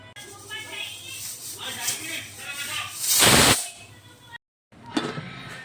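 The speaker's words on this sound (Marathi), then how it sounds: "मी पुन्हा अजून एक शिट्टी कुकरला लावते." A kitchen pressure cooker cooking lapshi, broken wheat sweetened with jaggery water, lets out a loud, sustained burst of whistling steam hiss midway, followed by a brief silence and a shorter hiss, with a voice faintly present beforehand.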